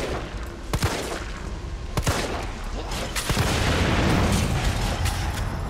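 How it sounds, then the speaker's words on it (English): Gunfire in Resident Evil 3 sets off a red barrel explosion: sharp shots crack out in quick succession, followed by a broad, loud rumbling blast that fills the rest. "I'm going to shoot that red barrel right there because, as we all know, red barrels equate to explosions in any video game"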